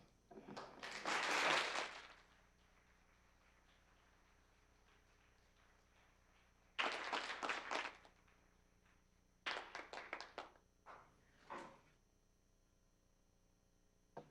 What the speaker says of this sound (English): And to that end, we applaud.